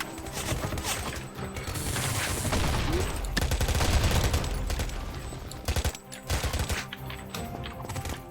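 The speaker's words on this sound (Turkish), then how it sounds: "Pompalıyla vurduk onu." Rapid bursts of gunfire, including shotgun blasts, in the World War Legion shooter game, loud and dense with crashes and mechanical clatter, ending in a few separate sharp shots.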